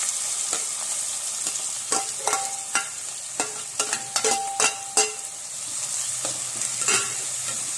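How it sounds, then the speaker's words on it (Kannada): Onions fry in hot oil in a pan while making chicken gravy, giving a continuous soft sizzle under a series of sharp spoon scrapes and clinks from stirring, clustered in the middle of the clip. "ನೀರುಳ್ಳಿ ಅಂತ ಸರಿಗೆ ಫ್ರೈ ಆವಡು ಅಂತ ಬೇಸ್ಬೇಕು"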